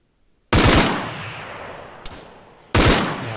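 Loud gunfire in a video game comes as two sharp bursts of heavy shots, each cracking hard and then fading, with a faint single pop between them.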